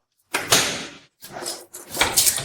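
A door opens with a few loud, close noises: a rattling scrape, a brief pause, then two more sliding, rumbling bursts, with no talk over them.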